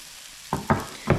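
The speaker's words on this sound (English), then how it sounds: "let them sizzle and hang out" Salmon cakes bound with almond flour sizzle in a hot pan over high heat, with three short crackling bursts rising over a quiet background hiss.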